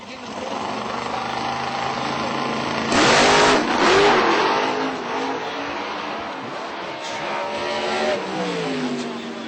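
A radial drag racing pickup truck and a Camaro launch down the strip, engines roaring loud and close, revving up sharply partway through and then holding a strained, rising drone.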